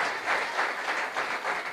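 Applause from a church congregation at a Spanish-language sermon, a steady dense wash of clapping with slight swells, fairly loud and without talk.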